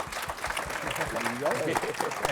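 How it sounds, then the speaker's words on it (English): An audience at a public sector technology summit applauds, a dense wash of clapping that runs under a voice speaking briefly over it. "So can we give them a round of applause?"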